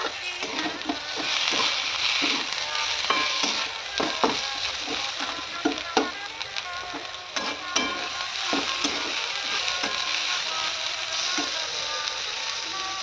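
Ginger-garlic paste and long-sliced tomatoes fry in a pan for soybean masale bhat, a continuous hissing sizzle punctuated by rhythmic spatula scrapes and taps as the mixture is stirred.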